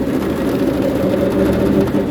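A go-kart fitted with a swapped-in Predator 301cc engine runs nearby, giving a loud, steady, low droning rumble with slight fluctuations and no pauses.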